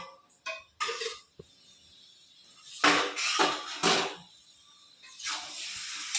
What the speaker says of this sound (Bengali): এবার আমি থালাটা তুলে দেব